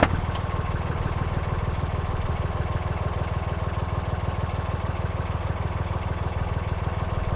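A narrowboat's diesel engine idles close by on a canal, a steady, even low chugging pulse that runs unchanged from start to finish with no voices.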